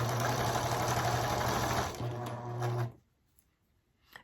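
A sewing machine stitching a quilt block runs steadily with a close, loud mechanical whir and hum for about three seconds, then stops, leaving near silence.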